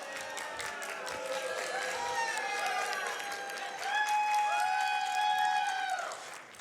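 A convention audience reacts at a games charity marathon, with a sustained wash of mixed cheering, clapping and long drawn-out voices that swell louder partway through before fading, with no clear talking over it.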